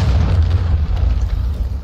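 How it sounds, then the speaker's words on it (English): A detonated device explodes in a shooter video game, giving a loud, deep rumbling boom that fills the short moment with no voices. "Stand by to detonate."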